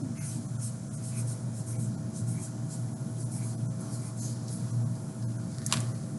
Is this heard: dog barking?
no